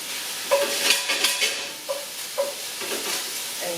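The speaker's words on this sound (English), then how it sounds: "So I've got our beef going back here, and it should brown up quickly." Beef browning in a very hot pan for stroganoff, close sizzling broken by several stirring and scraping bursts at an uneven pace, with no voices.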